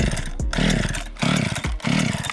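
A chainsaw cuts through lake ice to open a fishing hole, its engine revving loud and close in repeated surges, dipping briefly between cuts, with no speech over it.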